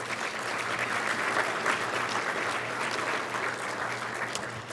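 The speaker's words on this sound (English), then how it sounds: "please give him a round of applause" Audience applause at an awards dinner during an annual conference, steady and sustained clapping from a large room with a low hum beneath, continuing throughout without talk.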